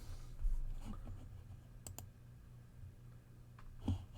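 A computer keyboard clicks in a few sparse, quiet taps while coordinates are entered, with a couple of sharper keystrokes standing out against a low background hum.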